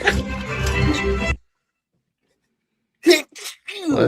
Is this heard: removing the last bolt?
no